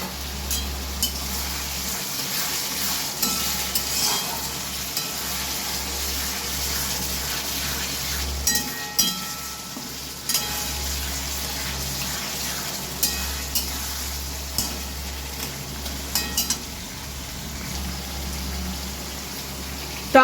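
Paneer curry sautéing in a pan with soaked raisins: a steady sizzle and fry with intermittent stirring scrapes and clicks, close up and continuous.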